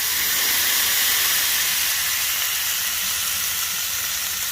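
Pot roast sears on a grill under a press, giving a steady, loud, broadband sizzling hiss that holds evenly throughout with no talk.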